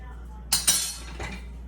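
Metal pots and pans clink a few times while lasagna noodles cook in a deep pot, two close sharp clangs followed by a fainter knock, with a low hum beneath.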